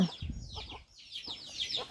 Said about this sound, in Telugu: ఇవన్నీ కూడా గిరిరాజు కోళ్ళు మీరే చూడండి